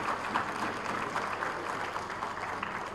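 Steady applause from an audience at a political ceremony in Punjab, Pakistan, forming a continuous, dense patter across the whole stretch without clear peaks.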